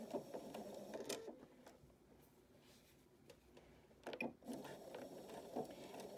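Sewing machine stitching a fabric cap, a soft continuous mechanical whir with faint ticking, briefly pausing and then resuming, close but quiet.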